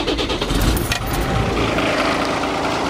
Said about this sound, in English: Yeah, all I hear is engine.